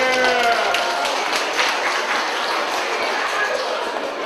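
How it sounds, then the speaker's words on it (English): Guests at a parents' birthday celebration give a round of applause, steady clapping that fades slightly toward the end, with some speech and a faint tonal ring early on. "So can we just quickly give them a round of applause?"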